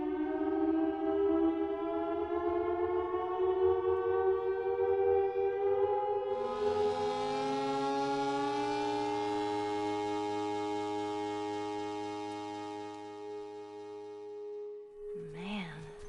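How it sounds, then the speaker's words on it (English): Military sirens and alarms in The Last of Us Part II: a sustained, wavering tonal wail with layered harmonics, rising in pitch partway through and holding steadily loud, tapering slightly near the end. "There's sirens and alarms"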